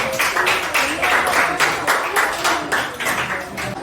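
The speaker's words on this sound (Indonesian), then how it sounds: "Tepuk tangan untuk kelompok 2." Classmates in a school lesson applaud a student group, a dense, even patter of hand claps sustained throughout, fairly close, with faint voices underneath.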